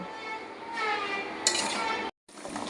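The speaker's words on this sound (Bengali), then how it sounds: "আবার ভালো করে নাড়িয়ে নেব" A spoon stirs vegetarian potato curry (aloo dum) in a pan, giving a steady run of scraping and light clinks against the metal, with one sharper knock and a brief silent break near the end.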